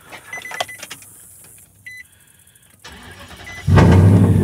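A Nissan Titan truck is cranked after repairs: clicks and a brief electric whir, a short quiet starter buzz, then the engine catches and settles into a loud, steady idle close by.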